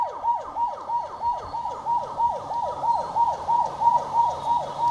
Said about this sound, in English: in your shot now is the ambulance that is carrying the body